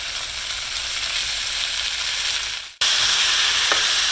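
Beef tips frying in hot oil in a pan, a loud continuous sizzle that briefly cuts out, then resumes even stronger as more oil goes in, with no talking.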